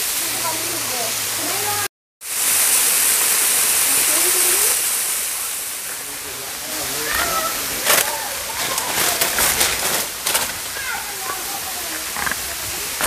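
Steady broadband rushing of the Curug Luhur waterfall in Pandeglang, Indonesia, fills the scene, broken by a brief gap, with faint voices and scattered clatter over the roar.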